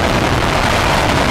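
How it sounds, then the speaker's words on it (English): Space Shuttle Discovery's main engines igniting on the launch pad for the STS-133 launch, producing a loud, steady, dense broadband roar with crackling rumble that holds constant throughout, with no voices over it. "We have main engine start."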